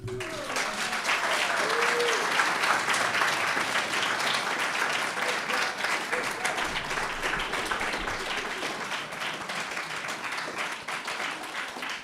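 An audience at a public talk on austerity gives a speaker a long round of applause, dense and steady clapping that holds for about twelve seconds and fades slightly toward the end.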